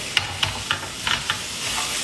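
Rice is stir-fried in a hot pan, a steady sizzle broken by a handful of sharp scraping clicks as a utensil stirs it, close and fairly quiet with no talk.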